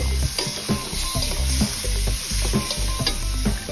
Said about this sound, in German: geschälte Tomaten, könnt ihr aus der Dose nehmen, könnt ihr auch selber frischer zusammenschnippeln, hinzufügen, gut mit anbraten und verrühren